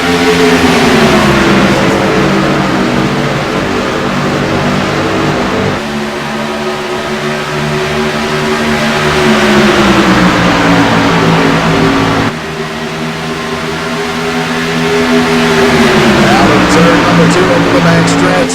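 Race cars in a Dream Racer Cup event at Daytona International Speedway accelerate after a green flag restart, their engines a loud continuous roar that rises in pitch with gear changes and blends with a commentator talking over it.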